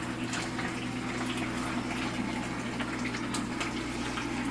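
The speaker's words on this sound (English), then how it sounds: "Then we're going to add some vinegar." About two tablespoons of vinegar poured into a bowl for orange chicken, a steady liquid trickle and splash heard close over a constant background hum.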